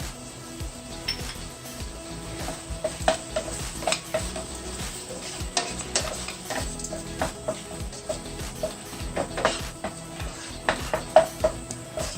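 Tomato, onion, ginger and garlic sauté with rock salt in a pan for a South Indian chicken curry, a soft continuous sizzle with scraping, clinking stirs from a utensil recurring close by.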